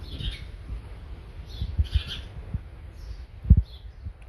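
Faint chirping bird calls come in scattered bursts at a distance from nests high on the ruined Reculver Towers in Kent, mixed with low thumps and rustling nearby.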